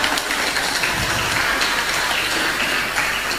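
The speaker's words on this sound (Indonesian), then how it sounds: "Tepuk tangan yang kuat." A dense, steady wash of loud applause from a debate audience, many hands clapping at once with no gaps, close and continuous like heavy rain.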